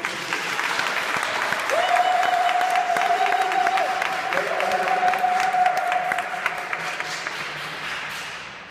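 A church congregation applauds and acclaims the Lord with sustained, dense clapping from a large crowd, while a sustained sung or shouted voice rises above the applause.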